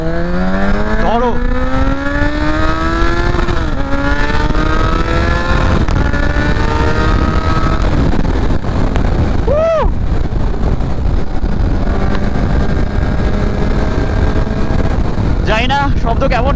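Riding past 100 km/h on a highway, a Kawasaki Z900's inline-four engine howls loud and close, rising and settling between gear changes, with heavy wind buffeting throughout.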